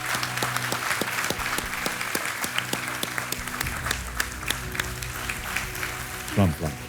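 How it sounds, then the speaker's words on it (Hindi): Steady applause from a TV quiz show studio audience fills the whole stretch, with a brief low thump near the end. "तालियों के साथ आपका स्वागत करते हैं।"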